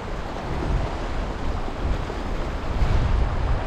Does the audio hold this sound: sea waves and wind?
yes